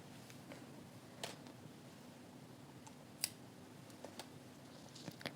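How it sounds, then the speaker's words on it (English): Scissors snip through yarn during a crochet butterfly project, a few faint, sharp clicks scattered over a quiet room with no talking. "Now I want to cut the yarn."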